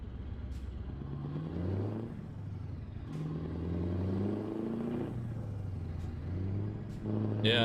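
Jon Ruda Torpedo truck engine in Euro Truck Simulator 2, a low rumbling drone that swells and eases in several rev cycles, with faint clatter over it and no speech.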